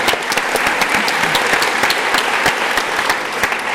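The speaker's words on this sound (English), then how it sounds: "You can clap for her, she appreciates it" Lecture hall audience at a university leadership talk bursts into steady, dense applause, loud and close, with a few sharper individual claps standing out; no talk over it.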